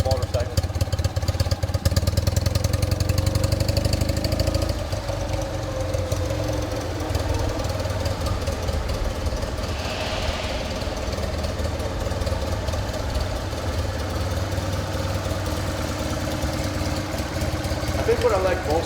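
A 1963 BMW R50S motorcycle engine idles steadily with a low, lumpy exhaust rumble throughout, close and fairly loud, with some voice-like sound mixed in.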